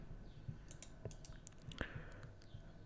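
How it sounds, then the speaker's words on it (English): Clicks from a computer mouse being right-clicked on a Windows desktop, several soft, sharp taps spread irregularly over a few seconds with faint background hiss and no talking. "right click,"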